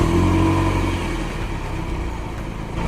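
A Nissan Silvia S15 with its SR20 engine and factory exhaust piping hums at a steady, fairly loud drone, easing slightly in level as it holds revs, with no talking.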